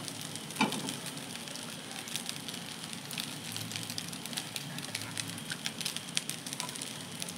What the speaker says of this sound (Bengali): চলো এর মধ্যে আমি এবার মাংসটা দিয়ে দেবো।